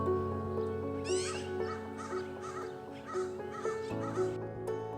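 Crows gathering around a dead crow, crying out with repeated harsh caws in short bursts at moderate distance over a steady low background hum.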